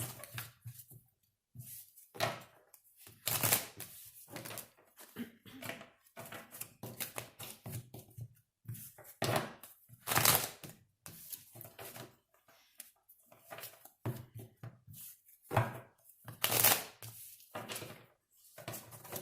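Repeated bursts of papery riffling and soft slaps, close and fairly quiet, like a deck of tarot cards being shuffled in several rounds.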